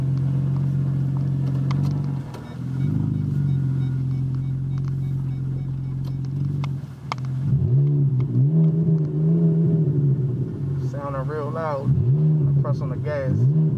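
A 2013 Ford Taurus Police AWD engine revs repeatedly in rising and falling surges after a steady idle, close and loud, with a voice talking over it.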